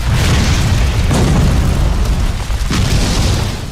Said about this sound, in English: Except instead of a rock, it's an explosion.